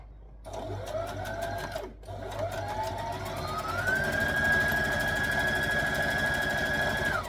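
A sewing machine runs a dress seam, its needle chattering rapidly while the motor pitch rises and then holds steady, broken by a brief pause for a backstitch before stitching resumes at full speed.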